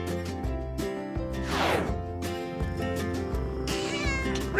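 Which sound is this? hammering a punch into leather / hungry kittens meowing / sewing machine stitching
hungry kittens meowing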